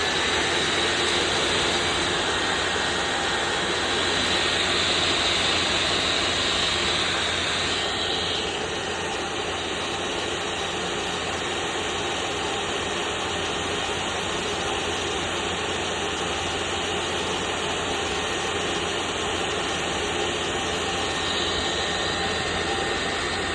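A diesel heater fitted with a turbo boost option runs flat out at full speed, giving a loud, steady, jet-like roar with a high whine that holds throughout, with no talk over it.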